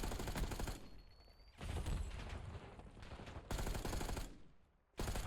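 Sustained automatic gunfire from a Call of Duty: Ghosts competitive league match, loud dense bursts broken by brief lulls, with no talking.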